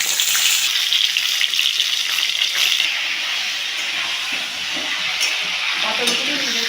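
Pointed gourd (patol) pieces fry in white oil with salt and turmeric, making a loud, bright, continuous sizzle that eases slightly midway and carries light stirring scrapes.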